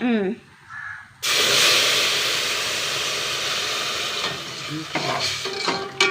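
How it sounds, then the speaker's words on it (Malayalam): Half a litre of milk is poured into vermicelli roasting in a hot pan, breaking into a loud, continuous sizzle and bubbling after a brief voice at the start. "സേമിയൊക്കെ മൊരിഞ്ഞു ഇതിലേക്ക് അര ലിറ്റർ പാലിട്ടാ"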